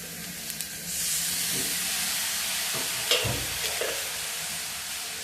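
Onion and tomato dry-roasting in a pan without oil for paneer masala, a steady close sizzle and hiss that swells after the first second, with occasional soft stirring scrapes and no voices.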